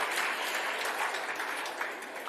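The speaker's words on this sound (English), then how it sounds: "A round of applause" An awards gala audience applauds steadily, a dense wash of clapping that stays fairly even, then eases off slightly near the end.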